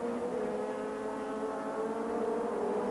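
Legends racing cars sweep past at Lydden Hill circuit, a steady, loud engine drone holding through the whole stretch with no talk over it.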